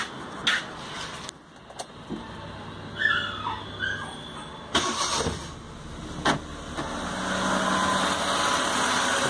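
A Maruti 800 car engine starts after a head overhaul and settles into idle, with cranking bursts, some clatter and a dog-like yelp before a steady running hum takes over.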